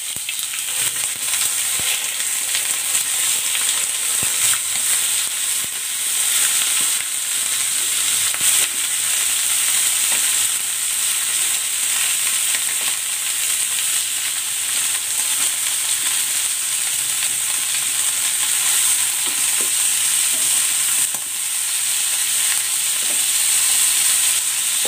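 Lemongrass chicken sizzling and crackling in hot cooking oil in a pan, a loud, continuous frying hiss with scattered pops and spatters that holds steady throughout, with no voices.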